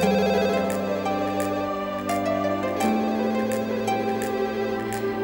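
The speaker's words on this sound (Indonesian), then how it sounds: "Jangan-jangan Tora yang telepon" A phone ringtone repeats a bright, regular electronic pattern over a steady musical bed, loud and continuous with no talking.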